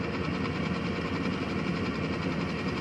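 A rice (palay) harvester machine runs in a farm field, its engine droning with a steady, even rumble and faint mechanical rattle throughout, close and fairly loud, with no voices.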